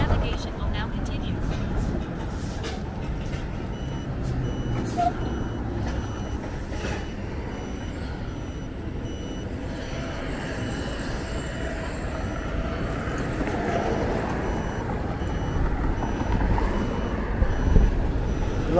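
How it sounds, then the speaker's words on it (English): Heavy trucks on a road near the Key Bridge, with a steady loud drone of engines and tyre noise throughout and faint intermittent reversing beeps among the traffic. "A lot of trucks."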